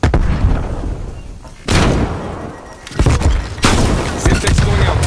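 In Call of Duty: Black Ops Cold War multiplayer, on the Domination mode of the Deprogram map, a grenade blast and gunfire erupt as loud, close, booming bursts that repeat roughly every second or so, with a voice speaking over them.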